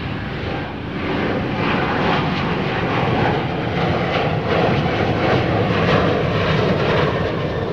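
An aircraft departs Chicago O'Hare, its engines a broad steady roar that swells slightly after the first second and stays loud and sustained.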